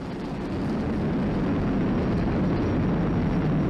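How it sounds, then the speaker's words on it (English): A SpaceX Falcon 9 rocket carrying a crewed Dragon capsule roars steadily about thirty seconds after launch, a broad, continuous low rumble that holds loud and even throughout, with no voices. "Flying crew on board Dragon and Falcon 9, and look at them go!"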